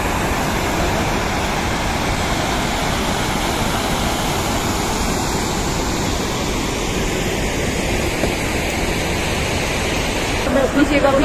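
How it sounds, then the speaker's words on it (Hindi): A mountain waterfall in Kashmir, on the Pahalgam route toward Amarnath, rushes in a steady, dense roar of falling water that fills the scene evenly throughout. "नीचे में नदी, ये बहता हुआ ये झरना"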